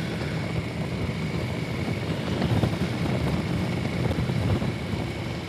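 A motorcycle cruises along the road on a ride to Cook's Corner, a steady broadband engine drone mixed with strong wind rush, continuous and fairly loud with no talking.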